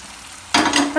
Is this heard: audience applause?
no